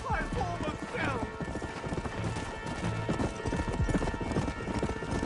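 Horse hooves clip-clop at a steady trot in Red Dead Redemption, close and rhythmic, and a whinny is heard near the start while a voice speaks over the hoofbeats.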